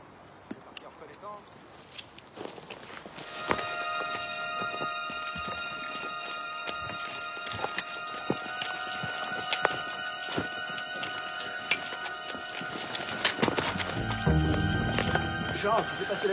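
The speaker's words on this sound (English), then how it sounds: "Horses. Just horses." A group of horses clip-clops along in a steady stream of hoofbeats with an occasional whinny, growing louder and nearer toward the end, with people talking over it.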